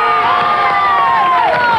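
Game show studio audience cheering and applauding at the end of a round, a dense continuous crowd roar with shouts and whoops rising over it throughout.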